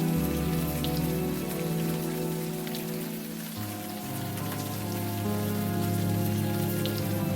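Steady rain falls in the video game Unavowed, a dense, even patter with no gaps, laid under a sustained low musical drone that shifts pitch partway through.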